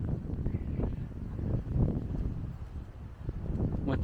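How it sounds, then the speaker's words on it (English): Strong gusting wind buffeting the microphone at a railway station in Terang, Victoria, Australia, a rough low roar that rises and falls throughout. "Once again, it's very, very windy."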